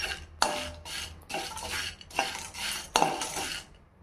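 Whole spices (cinnamon, cloves, cardamom, peppercorns and dry ginger) are dry-roasted in a small pan on low heat, with a ladle scraping and clinking in about six regular stirring strokes, close and fairly quiet.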